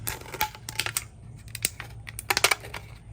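A discarded aluminum can being cut by hand into strips for plant tags: close, sharp irregular clicks and crinkling metal snips in small bursts, with a denser cluster near the end.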